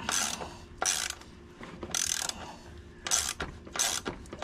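A ratchet tightens the front wheel of a Honda Helix scooter in five or six bursts of rapid, loud mechanical clicking, separated by short pauses, close up with no talking.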